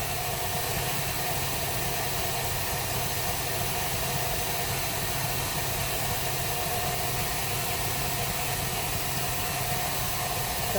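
Electric mixer beating butter for a cake batter, a steady continuous motor whir and hum that stays even and fairly loud throughout, with no talking over it.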